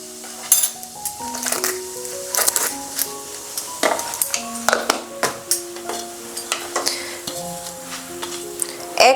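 Whole cumin seeds and asafoetida sizzle and crackle in hot oil, a steady frying hiss broken by sharp spatters, with metal utensil clinks and stirring scrapes close by.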